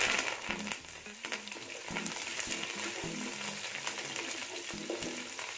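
Curry leaves and onion fry in coconut oil over a medium flame, giving a steady, close sizzle with scattered pops and light crackles throughout, no voices.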